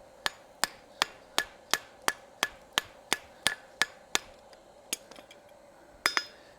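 Steady hammer blows ring on hot metal over an anvil as stock is upset for a decorative hacksaw, about a dozen bright clinking strikes in quick rhythm, then a pause and a few final hits.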